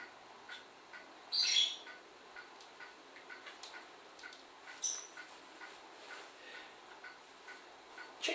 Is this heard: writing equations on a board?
no